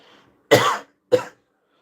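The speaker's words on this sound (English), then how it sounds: "sorry for the cough." Two short, sharp coughs close to the microphone, about half a second apart, in otherwise near silence.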